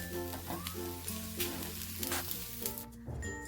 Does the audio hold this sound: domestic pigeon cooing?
no